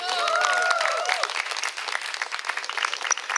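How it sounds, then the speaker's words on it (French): Audience applause at a live queer comedy-cabaret show, a dense burst of clapping from a crowd that starts full and loud then thins into scattered claps, with a few brief voices over it at the start. "Je vous demande de les applaudir."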